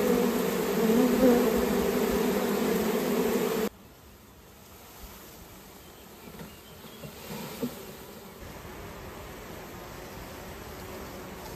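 A wild honeybee swarm buzzing: a loud, dense droning hum close by for the first few seconds, then a fainter, more distant buzz continuing to the end.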